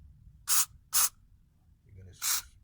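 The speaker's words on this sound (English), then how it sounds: "You're going to spray some into the carb," Carb cleaner sprayed into a Keihin KS2 carburetor from a Golf MK1, heard as three short, close, bright hissing bursts: two quick squirts, a pause, then one more.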